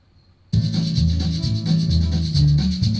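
After a brief quiet start, a driving Tulsa train beat drum groove kicks in with steady bass thumps and a constant bright shaker hiss on top, loud and close.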